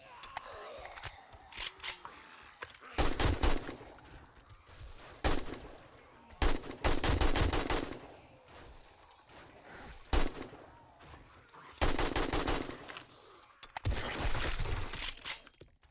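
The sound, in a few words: semi-automatic gunfire in video game 7 Days to Die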